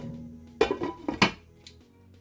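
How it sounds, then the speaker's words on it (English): A spoon scrapes and clinks against a pot while food for keto pho is stirred in a crock pot, three or four short metallic knocks in quick succession, close and fairly quiet, with no voices. "give it a little stir"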